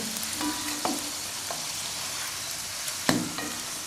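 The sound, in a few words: lettuce-stem pancake frying in a pan, flipped over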